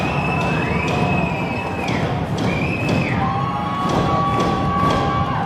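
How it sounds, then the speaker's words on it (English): A crowd at Broken Lake Field during an indoor football game between Dodge City Law and Wyoming Mustangs cheers and roars steadily, with whistle-like horn tones and thumps over the noise. "This crowd at Broken Lake Field getting into it"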